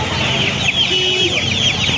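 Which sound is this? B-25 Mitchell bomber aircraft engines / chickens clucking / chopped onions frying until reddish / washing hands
chickens clucking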